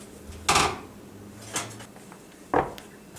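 Tray of fries pulled from an oven, three separate clanks and scrapes of metal and oven hardware spaced about a second apart, close and moderately loud with quiet gaps between.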